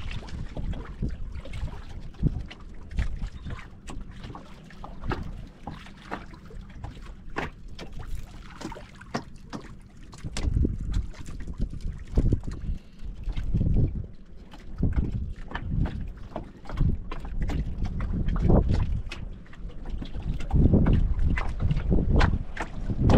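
Strong wind buffets a small fishing boat at sea, a steady rushing roar with gusty bursts and thumps of water against the hull that swell louder toward the end.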